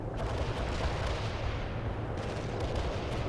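An artillery barrage in the World in Conflict strategy game: a dense, continuous rumble of overlapping heavy booms and blasts, loud and unbroken across the few seconds, with no voices.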